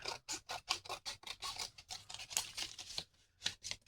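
Scissors cut through a piece of craft material in a quiet room, a close, rapid series of crisp snips and scratchy strokes with a short pause before the last few cuts.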